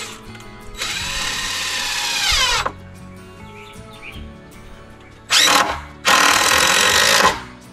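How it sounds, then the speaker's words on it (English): A power drill tacks a screw into a deck rim joist, whirring loudly in one long burst and then two shorter bursts close by, with faint bird chirps in the quiet gaps. "We're just gonna tack a screw in."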